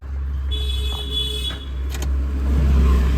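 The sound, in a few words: Maruti Eeco car engine trying to start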